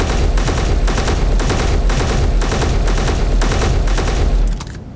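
A rifle firing at a Gatling turret in Space Engineers: loud, continuous rapid fire in even, pulsing bursts lasting over four seconds before stopping abruptly.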